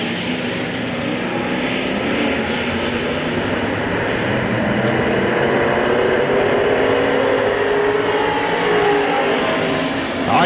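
Sprint cars or similar race cars roaring at Hagerstown Speedway, Maryland, as the green flag starts a qualifying heat race, a dense steady wall of engine noise from the pack, loud and sustained throughout with no talking.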